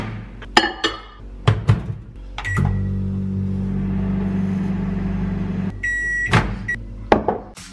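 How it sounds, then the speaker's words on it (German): Microwave oven heating gummy bears: door clicks and beeps, then a steady low hum runs for several seconds before a chime of beeps and more clunks as the door opens. "ich glaube höchstens 20 Sekunden in die Mikrowelle und dann sind die auch schon geschmolzen."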